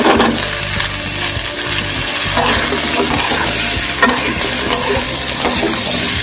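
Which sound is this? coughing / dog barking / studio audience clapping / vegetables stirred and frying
vegetables stirred and frying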